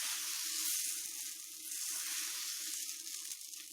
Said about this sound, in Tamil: இப்போ இதை அடை ஊற்றிடலாம்.